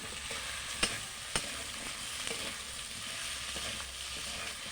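A fish head fries in a pan with chilli powder, a continuous gentle sizzle broken by several crisp scrapes and taps as a utensil stirs it against the metal, quiet and close with no voices.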